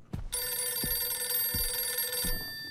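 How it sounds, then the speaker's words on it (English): An old telephone rings inside the horror game Visage, a loud continuous metallic bell trill lasting about two seconds, with dull thuds like footsteps sounding underneath. "ignore the phone."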